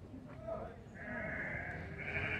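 Sheep and goats bleat at a traditional cattle and livestock fair in São Bento do Una, Pernambuco, with sustained calls rising over a busy crowd murmur, fairly close and steady.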